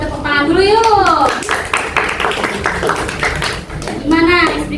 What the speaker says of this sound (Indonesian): Nah, sebelumnya kita tepuk tangan dulu yuk.